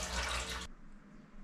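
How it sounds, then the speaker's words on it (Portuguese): Cooking water is drained off boiled kumquats, pouring in a loud, steady splashing rush for about two-thirds of a second before it cuts off abruptly to a quiet room tone. "nós vamos escorrer essa última água, vamos jogar fora"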